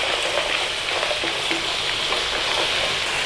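Cashew nuts sizzle and fry in a hot wok with Thai-style chicken, a dense steady crackle with faint stirring scrapes, close and fairly loud.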